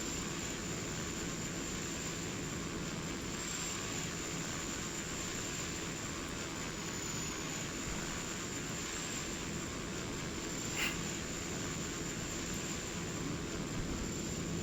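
Steady, loud drone of a Cessna C208 Caravan's engine in flight, a continuous even roar from inside the cabin with no break across the whole stretch.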